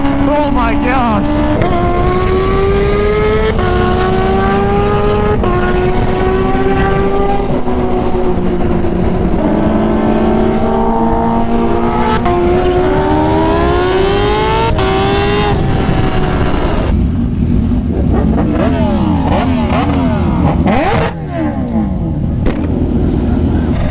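Kawasaki Ninja H2 motorcycles of around 300 wheel horsepower race past at a street meet, their engines screaming loudly and rising and falling in pitch through gear changes, with people shouting and talking excitedly throughout.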